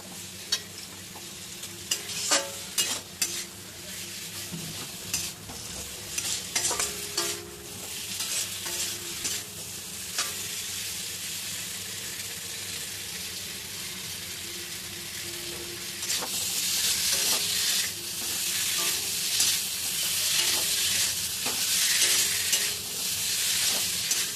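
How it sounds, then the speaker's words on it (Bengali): Boiled potatoes, cooked only with salt and not fried, being stirred with spices in a frying pan, a steady close sizzle with repeated scraping and clacking of the spoon that grows louder and hissier toward the end. "মশলা আর আলু ভালোভাবে মিশিয়ে নেব।"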